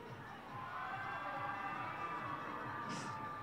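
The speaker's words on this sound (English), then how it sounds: "Just like the score, very close on the cheering." At a FIRST Championship robotics competition in Houston, a large arena crowd cheers in a broad, distant roar, with talk and shouts mixed into the steady wash of noise.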